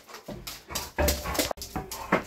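A dog gives a run of excited whimpers and short yips in bursts, close and fairly loud, with a brief break near the middle; no one talks over it.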